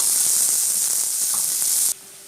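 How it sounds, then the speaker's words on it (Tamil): One onion sautés in a pan for sambar, giving a loud, steady close sizzle that cuts off abruptly near the end. "ஒரே வெங்காயம் தான் போடுறோம் ஒரு வெங்காயம் வெங்காயம் வந்து நல்லா வதங்க விட்டுக்கலாம்"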